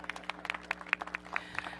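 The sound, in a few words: audience applause for Deputy Mayor Brian Kenner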